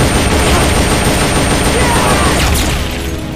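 Sustained bursts of M60 machine gun fire in Metal Gear Solid: Peace Walker, a loud, dense rattle running the whole time with booming low end and no pauses, easing slightly toward the end.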